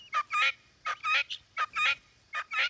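Guinea hens calling in the evening, a run of loud harsh squawking bursts in uneven pairs and triples, close and clear with no talk over them.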